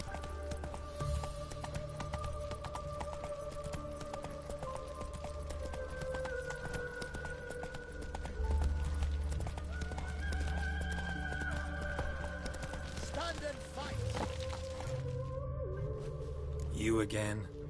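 In The Witcher 3, a horse gallops with rhythmic hoofbeats under ongoing game music, ambient sound and voices.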